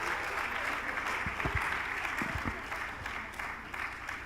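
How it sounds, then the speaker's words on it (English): Sustained audience applause fills a packed hall at a pre-departure orientation, dense continuous clapping with a few low thumps scattered through it, no talk on top. "That applause is not warm enough."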